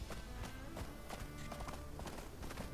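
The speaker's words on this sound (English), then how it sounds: "the Foley sounds for horse hooves and horse neighing" Rhythmic clip-clop of horse hooves trotting at a steady pace in the video game Windstorm: Start of a Great Friendship Remastered, moderately close, with faint background sounds and a brief bump at the end.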